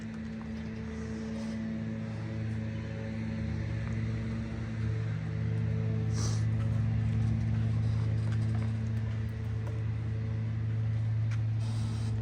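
A vehicle is backed up to clear room for a trailer, giving a steady low engine idle with a constant hum that swells slightly partway through, close and alone.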